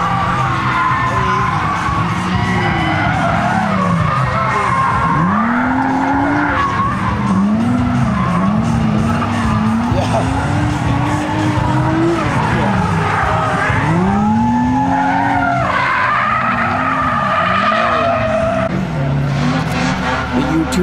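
Drift cars at a night event slide with long wavering tire squeals over roaring engines, loud and continuous, with yells and whoops mixed in.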